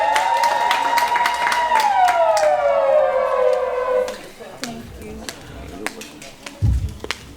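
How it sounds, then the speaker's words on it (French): An audience at a family celebration bursts into applause and cheering, a crowd roar with a shrill whistle-like tone sliding downward, then scattered clapping and voices as it settles. "Sous vos acclamations, s'il vous plaît."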